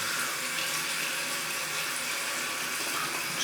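Tap water runs steadily into a sink as it fills during a head shave, a constant broadband rush without pause, close and alone with no talking.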